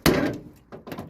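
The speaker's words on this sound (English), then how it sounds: "Yep, door got caught in the fender there." The door of a worn classic 4x4 manual truck at an auction swings open and jams against the fender with a heavy metallic thunk, followed by a couple of softer knocks and rattles nearby.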